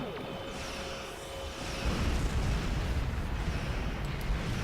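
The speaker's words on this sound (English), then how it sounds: "Bear full spread torpedoes, activate tachyon beam to kill their shields." Starship torpedo volley in a space combat video game, heard as a dense, loud rumbling roar of firing and explosions that swells and stays heavy throughout, with no voices.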